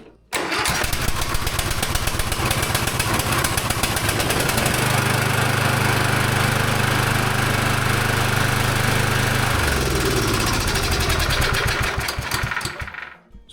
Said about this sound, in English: That's how you get your lawn tractor to start.